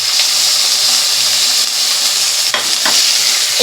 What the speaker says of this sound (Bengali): এই তেলের মধ্যে একটু গোটা জিরে দিয়ে দিলাম, তার সঙ্গে একটা তেজপাতা দিয়ে দিলাম।